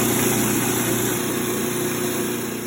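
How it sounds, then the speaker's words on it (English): A food processor blends a mixture to a smooth consistency, a loud, steady motor whir held unbroken throughout at close range, with no talking. "So now I'm going to process this into a fairly smooth consistency"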